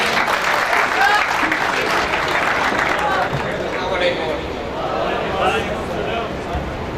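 Audience applause welcoming Hafiz Muhammad Umar to the stage at a civil engineering department reunion party, a steady dense wash of clapping that fills the whole stretch without fading, with some crowd noise mixed in.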